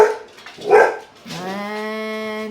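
A dog barks once, then lets out a long drawn-out whining howl, fairly close and alone.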